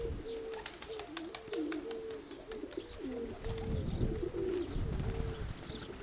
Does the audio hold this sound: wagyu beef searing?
no